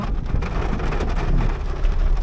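Heavy rain pours on a bus on EDSA in traffic, a dense, loud, steady hiss and drumming of drops on the vehicle with low rumbling underneath, no voices.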